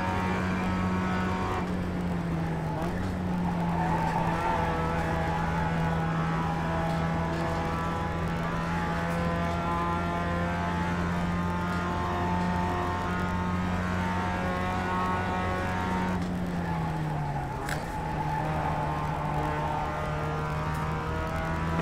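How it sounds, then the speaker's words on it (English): Race car engine in the iRacing sim game, a steady loud drone with a sustained pitch that holds, then dips sharply and recovers near the end as the car lifts and shifts, heard alone with no talk. "Coming up on the 5th place car, Wade."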